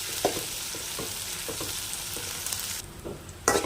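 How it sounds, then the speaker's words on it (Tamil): Sliced okra sautéing in oil in a pan over medium to low flame, giving a steady close sizzle with occasional scraping stirs and no talk. "வெண்டைக்காயை நல்லா நம்ம வதக்கி எடுத்துக்கலாம்"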